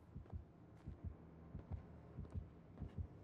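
The killer's terror radius heartbeat in Dead by Daylight, a faint, low, steady double-thump pulse repeating about every half second.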